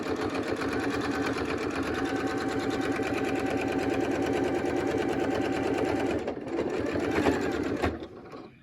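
A sewing machine back-stitches bias tape onto a health care worker mask in one steady, fast whirring run close up for about eight seconds, then stops.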